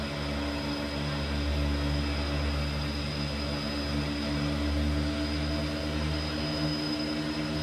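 The twin turboprop engines of a Twin Otter aircraft drone loudly and continuously during a low pass over a runway, a steady close-up roar with layered tonal hum and no voices.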